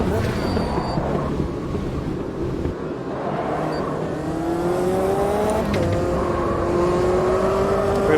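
Race car engine in the Automobilista 2 sim racing game, a loud continuous roar with rising whine as the car accelerates through gears, steady and close throughout.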